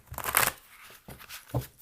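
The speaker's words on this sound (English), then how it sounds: "now I'm going to just shuffle some general cards here" Tarot cards are shuffled up close: a fast riffling burst, then two brief softer flicks of the deck.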